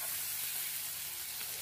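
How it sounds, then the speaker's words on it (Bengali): Prawns fry lightly in oil, producing a steady, close, broad hiss of sizzling with no pauses and no talking. "হালকা করে নেড়ে চেড়ে চিংড়ি মাছটা ভেজে নেবো।"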